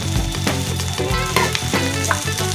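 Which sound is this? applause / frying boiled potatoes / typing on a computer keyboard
frying boiled potatoes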